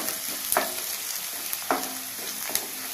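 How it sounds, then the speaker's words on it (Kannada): Curry leaves crackle and fry in hot oil for a bitter gourd palya, with sizzling under three sharp stirring scrapes of a spoon against the pan, no talking. "ಸ್ವಲ್ಪ ಕರಿಬೇವು ಹಾಕ್ತಾ ಇದ್ದೀನಿ, ಸ್ವಲ್ಪ ಫ್ರೈ ಆಗಬೇಕಿದೆ, 1 ನಿಮಿಷ ಫ್ರೈ ಆದರೆ ಸಾಕು."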